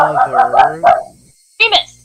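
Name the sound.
pet dog barking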